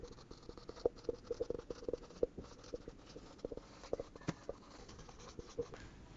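Chalk or a marker writes on a board during a math lesson, producing a steady run of short taps and scratchy strokes at close range, with a few faint voice sounds in the background.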